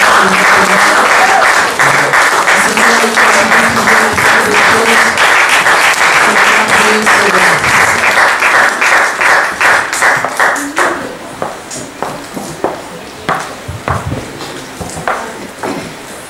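A church congregation at a French-language worship service applauds loudly and steadily for about ten seconds, then breaks into scattered, slowing claps that fade out, with a low voice underneath at first.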